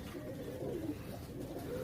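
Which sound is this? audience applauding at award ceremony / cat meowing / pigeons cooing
pigeons cooing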